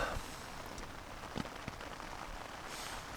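Steady rain pattering on a surface in the Bieszczady mountains, a dense even hiss with occasional louder drops, no voices.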